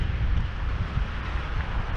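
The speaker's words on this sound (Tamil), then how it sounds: "காற்று இங்கே பயங்கரமாக அடிக்கும்." Strong wind blows at a wind farm along the Chennai to Kanyakumari route near Nellai, a steady, low roaring rush with gusty buffeting on the microphone and no voices.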